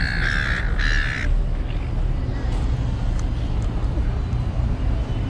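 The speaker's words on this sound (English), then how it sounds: "Got a lot of birds here." Crows caw loudly a few times at the start on a busy Sydney street, then the calls give way to a steady rumble of traffic and city noise.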